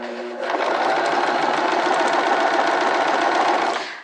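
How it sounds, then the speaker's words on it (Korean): A sewing machine runs steadily, stitching a flat-felled seam on a pair of fabric bloomers, with a continuous close whirring hum for nearly four seconds after a short quiet start. "재봉을 합니다"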